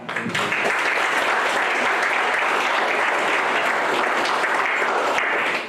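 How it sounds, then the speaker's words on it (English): A sustained round of applause from an audience at a Tendring community event, dense steady clapping filling the whole stretch at close range with no talking. "round of applause for people, especially persons as well from Tendring4Growth."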